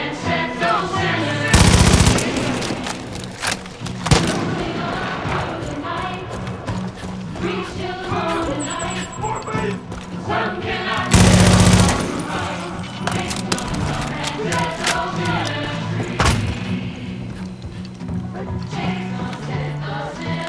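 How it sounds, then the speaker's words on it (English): Far Cry 5 gunfire on PC during a firefight: two loud, sharp bursts stand out about ten seconds apart over a dense, busy game soundtrack, with voices and action noise continuing throughout. "Someone shooting at me!"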